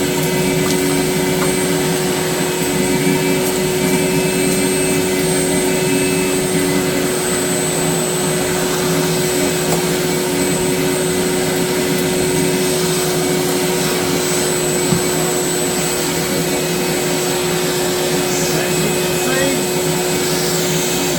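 A shop vac fitted with a dust separator sucks up a big pile of sawdust in a woodworking shop, a loud, steady whining roar with a high tonal whistle, continuous and close throughout.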